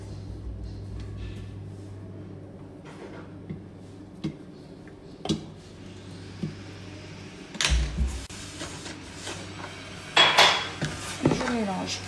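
Semolina being mixed with sunflower oil and nigella seeds in a bowl, a spoon scraping and clinking against the dish in scattered bursts over a steady low hum, with no talking.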